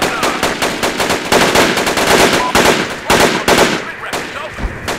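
Rapid automatic gunfire rattles in the military shooter game Project Reality during a city assault, with dense overlapping bursts and single shots, loud and close, continuing nearly the whole time.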